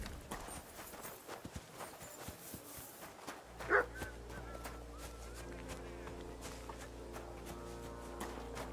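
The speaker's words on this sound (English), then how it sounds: "No one wants to hear your barking." A dog barks in Kingdom Come: Deliverance II, one sharp bark standing out over a steady bed of game ambience, with horse hooves clopping and faint background chatter.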